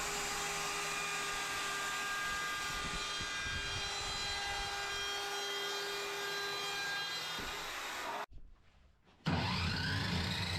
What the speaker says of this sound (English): we'll break out our router again, this time with the 1/4 inch round over bit